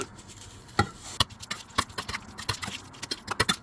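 Hands toss and squeeze fresh lettuce with doenjang, chopped green onion, garlic, sesame oil and sesame seeds in a bowl, giving a close run of soft, wet slaps and crunchy rustles in an uneven rhythm, with no talking.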